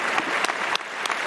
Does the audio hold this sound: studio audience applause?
yes